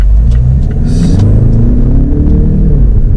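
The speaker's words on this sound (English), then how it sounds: "So there's full throttle." A 2.2-litre diesel Mazda CX-5 with front-wheel drive accelerates hard at full throttle, heard from inside as a loud, deep, rising engine drone with heavy road rumble, continuous for a few seconds.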